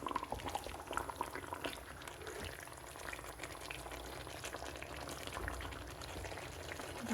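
Beef bubbling in a pot on a stovetop, a steady low simmer with soft popping and gurgling that continues evenly throughout, moderately quiet and with no voices.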